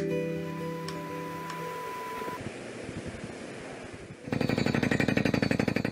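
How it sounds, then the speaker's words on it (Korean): A construction site where the ground is being drilled, played as a test sound: a steady grinding rumble with sharp rattling bursts, ending in a loud, dense burst of rapid pounding like a jackhammer. "땅을 뚫는 공사 현장 소음에도 전혀 반응이 없는 할머니."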